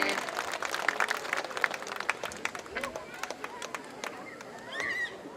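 A rock show audience applauds, with brisk, dense clapping and crowd chatter, and a voice cuts in near the end as the clapping thins out.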